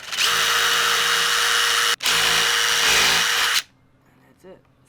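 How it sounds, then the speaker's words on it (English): A power drill pre-drills a small hole through an old wooden door during installation, a loud steady whine running about three and a half seconds with one brief stop, then quiet with a faint knock. "I'm going to pre-drill a hole"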